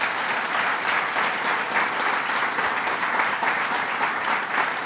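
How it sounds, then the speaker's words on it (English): Sustained audience applause for Genesee Brewery at an expansion announcement, a dense steady patter of many hands clapping at close range with no voices standing out, even in loudness throughout. "let's give them a round of applause"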